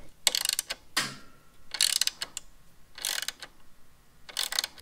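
An angle ratchet wrench tightens plastic mid-frame air deflector fasteners on a Harley-Davidson bagger motorcycle, giving four quick bursts of close, clicking ratchet strokes separated by short pauses.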